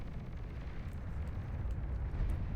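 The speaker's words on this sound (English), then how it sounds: "Second nuclear missile finishes the job." A nuclear missile detonation in the strategy game Beyond All Reason produces a steady, deep, rumbling roar with a rolling low-end boom and no sharp onset, sustained at a moderate level throughout.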